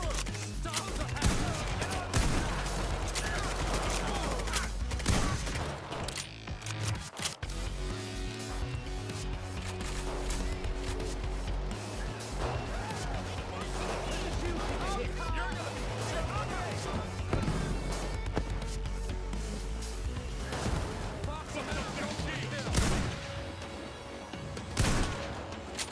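Gunfire in the heist shooter Payday 3, with repeated shots and bursts from a favored gun during a police assault with a tactical shield unit, running almost continuously through the clip, loud and dense, with a voice talking intermittently over it.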